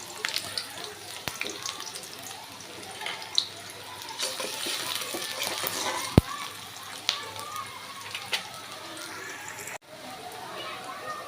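Onion drops into hot oil in a home kitchen pan, giving a low, steady sizzle with scattered clicks and clinks of utensils while someone talks over it at close range.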